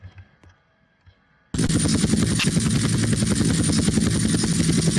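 A loud, steady rotor drone with rapid chopping pulses kicks in abruptly after a quiet opening, like a game helicopter, continuing without voices.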